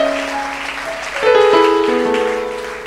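A church congregation at a worship service applauds, the clapping swelling loudly about a second in and continuing over sustained tonal music, with no speech.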